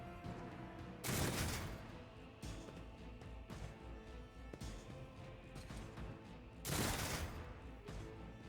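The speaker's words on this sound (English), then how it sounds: "You dare shoot at the best woman in the game?" Bursts of gunfire in Warhammer 40,000: Rogue Trader sit over a dense, rumbling game soundscape, with two louder volleys standing out from the steady background din.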